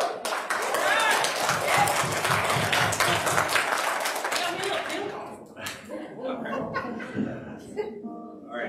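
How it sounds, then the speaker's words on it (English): A church congregation during worship claps loudly in a dense burst with some laughter, the clapping fading out after about five seconds into scattered chatter and voices. "I think we just need to clap really loud"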